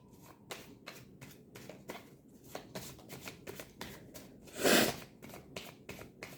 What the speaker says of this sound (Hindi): हम एंजल्स के भी कुछ कार्ड्स ले लेते हैं यहाँ पे।